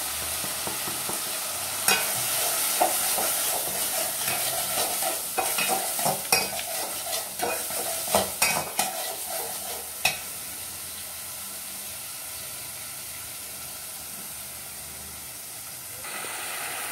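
Spices fry in hot oil for a shrimp and potato curry, a steady bright sizzle with a few sharp stirring scrapes and clicks in the middle, no talking.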